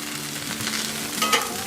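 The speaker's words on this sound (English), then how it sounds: "That's gonna be a long hash brown to flip." A long hash brown sizzles loudly on a Blackstone griddle as a spatula scrapes and turns it, with steady frying crackle throughout.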